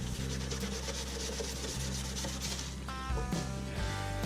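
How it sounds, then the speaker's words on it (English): A wooden kitchen cabinet door is rubbed and cleaned along the grain, giving close, repeated rasping strokes that run continuously with a brief pause near the end. "it's probably better when you're rubbing this to go in the direction of the grain"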